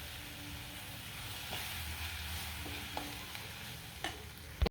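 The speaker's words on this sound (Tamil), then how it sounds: "இப்போ இந்த எண்ணெய் வெங்காயத்தோடு இதை கொஞ்சமாக இப்படி மிக்ஸ் பண்ணி வச்சுக்கலாம்." Boiled chickpeas get stirred into onions and oil in a pan, a low sizzle under scattered spoon scrapes and knocks, ending with a louder clatter, no voices.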